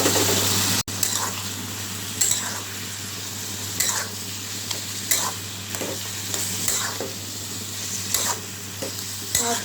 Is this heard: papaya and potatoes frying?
yes